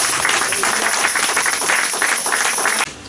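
A church congregation applauding, a dense, steady wash of many hands clapping together that stays loud and even, then cuts off abruptly near the end.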